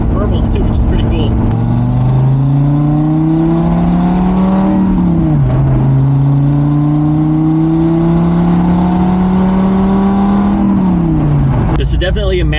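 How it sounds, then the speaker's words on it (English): A Dodge Viper's V10 with a six-speed manual hums steadily at a close, loud idle and moves through two slow rises in pitch as it cruises. Small burbles are heard underneath, and a person talks throughout. "It does have little burbles, tiny little burbles too"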